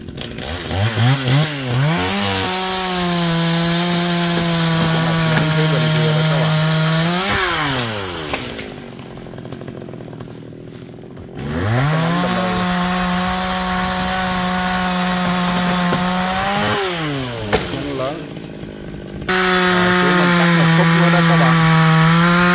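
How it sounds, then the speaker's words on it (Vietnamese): A chainsaw cuts into a large golden wattle tree, the engine revving up into long, loud cutting bursts, dropping to idle between passes, then biting in again, close and dominant. "Chúng mình lấy máy cưa nè các bạn để mình gùm lên nha."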